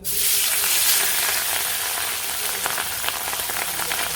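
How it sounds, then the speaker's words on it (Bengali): Loud, steady sizzling of fish frying in hot oil, a dense crackling hiss that bursts up at the start and keeps going, close up with no voices. "তেল হয়ে গেছে গরম হয়ে মাছ দিয়ে দিই"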